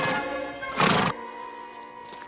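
A horse in an old Western TV drama lets out a harmonic whinny, with a sharper burst in the middle, then fades off; no talk is heard over it.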